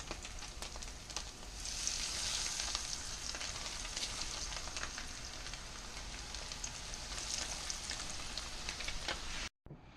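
Mackerel frying together in a pan for a catch-and-cook meal give a steady, close, even sizzle with fine crackling, continuous throughout until a sudden brief cutoff near the end.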